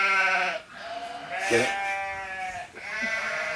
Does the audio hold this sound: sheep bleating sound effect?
yes